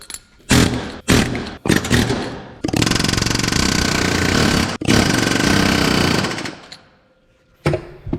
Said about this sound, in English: I'm just gonna use an air hammer.